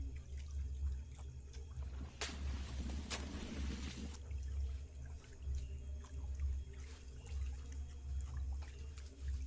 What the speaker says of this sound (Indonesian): ini mulai kita sedot lagi untuk airnya supaya lebih gampang lagi